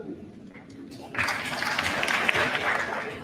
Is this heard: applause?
yes